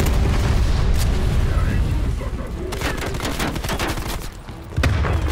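Grenade blasts and rapid gunfire rattle through a Call of Duty: Black Ops Cold War firefight, loud and dense for several seconds with booming low impacts, a brief lull, then another burst of shots near the end; a voice speaks faintly in the mix.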